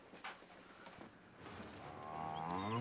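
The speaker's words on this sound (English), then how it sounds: "Cows are in there." Cattle moo in a farm setting, a faint drawn-out lowing call that rises near the end over a quiet background, with a few soft knocks earlier.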